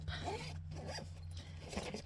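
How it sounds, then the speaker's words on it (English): A zipper on camping gear in a minivan is pulled shut in one continuous rasping run, close to the mic, with a steady low hum underneath. "Zip it up."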